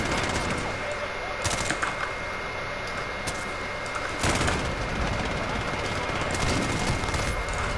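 Gunfire in the Call of Duty video game, played with keyboard and mouse: sharp bursts of shots at about 1.5, 4.3 and 6.5 seconds over steady game ambience, with some talk around them.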